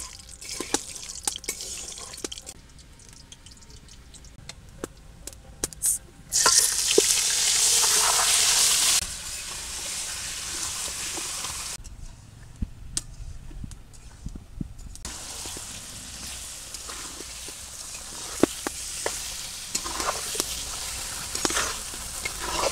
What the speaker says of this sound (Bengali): কড়াইতে তেল দিয়ে দিলাম অল্প করে